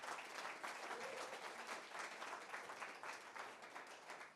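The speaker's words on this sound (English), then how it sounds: "Give yourselves a round of applause." A conference audience clapping steadily, a continuous wash of applause that holds at an even level from start to finish.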